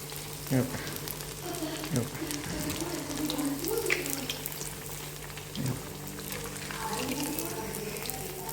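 Sabudana and potato vadas fry in hot oil with a steady close sizzle. A few soft knocks and brief stirring noises sit on top, and a faint voice is heard now and then.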